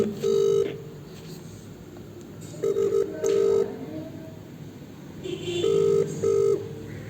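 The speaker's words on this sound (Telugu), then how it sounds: "కాల్ రింగ్ అవుతుంది" A phone ringback tone repeats in paired beeps, with quiet gaps between rings, over a low background hum; no one speaks.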